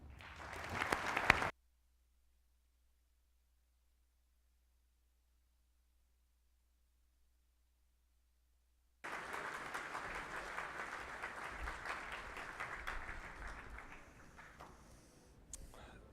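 Applause for an Airman Leadership School graduating class at a ceremony: a short burst of clapping that cuts to silence, then a longer stretch of steady crowd applause that gradually fades.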